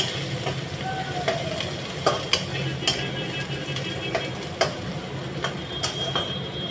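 Onion fries soft and golden in a pan for a snake gourd curry, a steady sizzle under the intermittent scraping and tapping of a spatula stirring it around.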